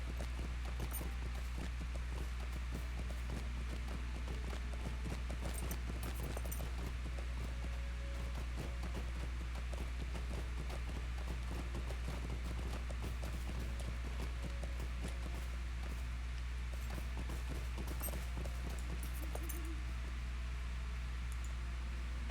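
Steady clip-clop of horse hooves while riding in the fantasy online game Lord of the Rings Online, rhythmic light clicks over a constant droning ambient bed, no voices.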